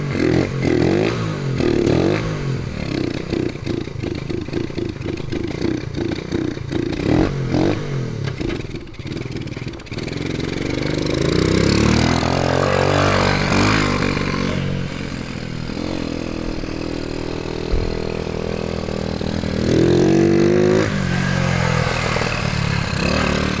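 A 1979 Honda CT90 motorcycle, restored after 27 years off the road, rides in loops nearby, its small engine revving up and easing off as it passes, with some clatter and scraping along the way.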